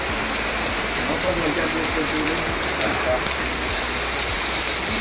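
Monsoon rain patters steadily on surfaces in a Konkan village. The close, even hiss is dotted with scattered drips and lasts for a few seconds without a break.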